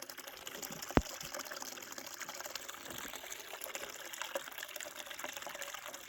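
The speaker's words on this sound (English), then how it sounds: "Yep, that water flow looks pretty good." Water flows steadily through gold-prospecting gear in an Australian outdoor setting, a continuous broadband gush with one sharp knock near the start, heard alone without talk.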